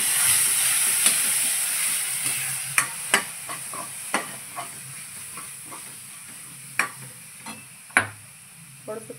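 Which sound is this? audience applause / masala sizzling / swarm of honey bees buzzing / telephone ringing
masala sizzling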